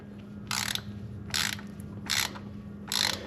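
Ratchet tightening an oil filter on a Harley Road Glide, four short, crisp bursts of clicking at an even pace, close and clear, with quiet between strokes.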